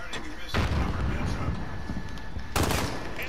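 Gunfire in Call of Duty: Black Ops 4, two loud bursts of shots about two seconds apart over a steady rumble of game noise, with a player talking.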